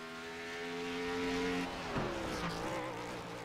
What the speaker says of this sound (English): You can hear the car just trying to break traction.